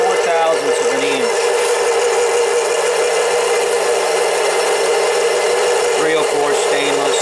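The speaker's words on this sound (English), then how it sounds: "That's the 710 mini lathe." A 7x10 Harbor Freight mini lathe takes a continuous cut in 304 stainless steel with a live center supporting the work, giving a loud steady motor whine and cutting noise with faint tonal squeals near the start and end.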